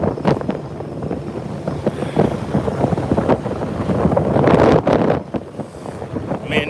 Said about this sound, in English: Man, this wind is brutal.